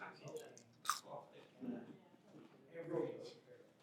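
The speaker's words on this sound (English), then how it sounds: "Nice little skin on fries. Very, very crispy." Someone bites into crispy skin-on fries, giving a few soft crunches and chewing sounds close to the mouth, with a voice speaking in between.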